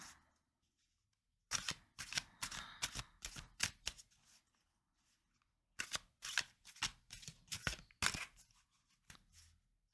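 Alchemy cards are shuffled close by, quiet and crisp, in two bursts of rapid riffling snaps separated by a short silence, with a final few soft clicks.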